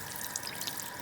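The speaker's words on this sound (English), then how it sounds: "the faucet, the stream of water, and wash it right on a strainer" Tap water runs in a steady broadband stream over rice held in a strainer under a kitchen faucet, a continuous close splashing rush with no voices.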